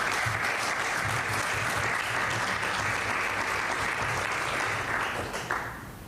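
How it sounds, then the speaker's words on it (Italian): Sustained audience applause at an Italian gathering, a dense steady wash of many hands clapping that holds loud for about five seconds and then begins to fade. "Un applauso, ragazzi."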